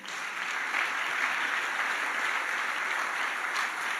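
A church congregation applauds together during a sermon, a dense sustained clapping that fills the room at steady loudness from start to finish, with no speech over it.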